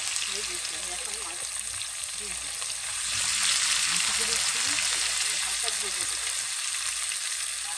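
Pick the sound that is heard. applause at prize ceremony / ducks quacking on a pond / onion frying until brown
onion frying until brown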